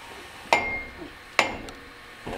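A hammer strikes a 1999-2007 Chevrolet Silverado or GMC Sierra 2WD front wheel hub to free the bearing: two sharp, loud metallic blows that ring briefly, with a third starting at the very end.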